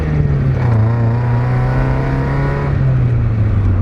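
A 1.6-litre Mazda Miata sports car accelerating on a drive, with a steady, loud engine drone heard from inside the car and pitch rising and settling through the gears, and no talk over it.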